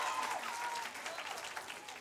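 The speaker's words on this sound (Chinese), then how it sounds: "掌声鼓励一下" A crowd at a church Christmas gathering claps for a group of children, a faint, steady, even patter of applause heard from a distance.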